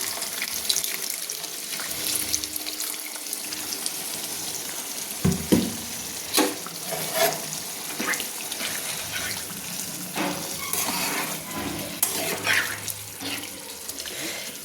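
Potol chingri, pointed gourd with prawns, cooks in a pan after water is added, giving a bubbling sizzle with occasional spoon scrapes and clatter, close and moderately loud, without speech.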